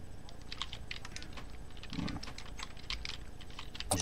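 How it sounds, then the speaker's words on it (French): Hard, rapid typing on a computer keyboard: dense, close clicks and clacks in an uneven stream, with a heavier burst of keystrokes near the end. "Qui c'est qui martèle son clavier?"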